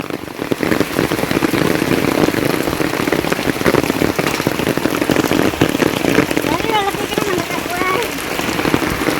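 Steady rain pours down on hard surfaces during flooding in Kerala, a dense continuous patter throughout, with a few faint bird chirps near the end.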